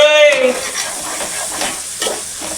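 Tomatoes and turmeric stirred and frying in a pan while cooking bottle gourd curry, a steady close sizzle with scraping stir strokes, no talk.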